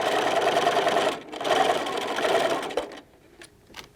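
A sewing machine stitches a sleep mask in two steady whirring runs with a short pause between, then stops, leaving a few faint clicks as the needle is set down to pivot.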